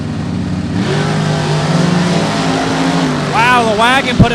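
A drag race car launches hard down the strip with a loud, sustained engine roar that climbs in pitch near the end, heard up close over a noisy track crowd.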